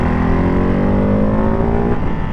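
Ducati Hypermotard 698 Mono single-cylinder motorcycle braking hard and downshifting twice, engine pitch sweeping down as revs fall, a brief blip near the end, loud and close with wind rush, no talk.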